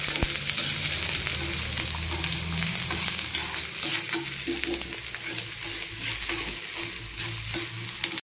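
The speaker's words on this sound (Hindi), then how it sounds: "इनको थोड़ा थोड़ा फ्राई करूँगी ताकि ये पक जाए" Chopped vegetables frying with cumin in a pan, a dense, steady sizzle with constant crackling and stirring, close and continuous with no talking.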